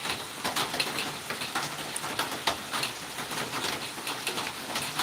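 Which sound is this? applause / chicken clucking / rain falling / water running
rain falling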